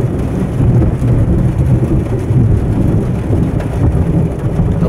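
Steady heavy rain with a deep rumble of thunder during a thunderstorm, heard from inside a camper van; the dense low roar continues without a break for the whole stretch, with no voices.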